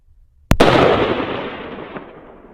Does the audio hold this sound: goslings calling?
no